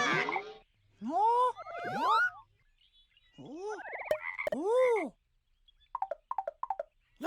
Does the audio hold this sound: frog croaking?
yes